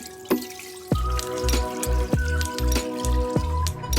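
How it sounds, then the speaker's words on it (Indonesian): Tamarind liquid for Palembang cuko strains through a sieve, with soft drips and a light trickle heard close up among several sharp metallic taps and knocks in a loose rhythm. "Kita saring lagi."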